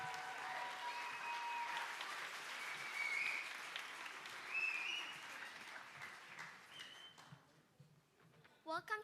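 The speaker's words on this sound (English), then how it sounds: "Let's give them a huge round of applause," Audience applause at an elementary school spring band concert, a steady wash of clapping that fades out near the end, with a few louder claps at the close.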